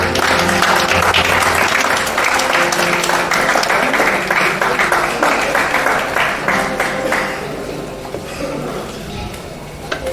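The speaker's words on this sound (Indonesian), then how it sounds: "Sekali lagi berikan tepuk tangan yang meriah" An audience at a regional FGBMFI convention breaks into loud, sustained applause, dense clapping filling the hall at full strength before gradually thinning and fading toward the end.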